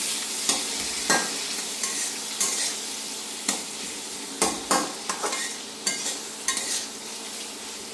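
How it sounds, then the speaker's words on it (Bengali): Chopped onions frying in oil until reddish brown for a Bengali prawn bhuna, a close sizzle broken by repeated scraping stirs of a spatula against the pan at irregular intervals; no talking. "পেঁয়াজটা আমি লাল লাল করে ভেজে নেব"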